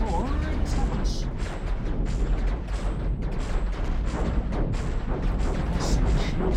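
Continuous loud barrage of weapons fire and impacts in a Cosmoteer space battle, dense overlapping booms and blasts striking a spaceship with no letup.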